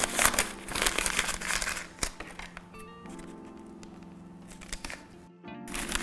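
Crinkly plastic rustling as a plastic piping cone is pushed into a plastic bag for cake decorating, with close, crackling handling noise that fades into quieter rustles and ends with a brief louder crinkle.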